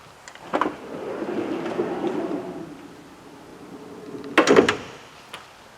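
The passenger side door of a 2021 Winnebago Revel camper van is handled, with a sharp latch click, a faint sliding rumble, then a heavier thump as it shuts, moderately close.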